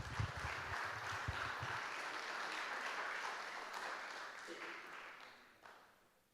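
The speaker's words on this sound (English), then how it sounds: "Let's give him a round of applause as he comes." A school staff audience claps at a coaches' development session in a large room, a soft, even spread of applause that fades away, with a voice speaking briefly at the start.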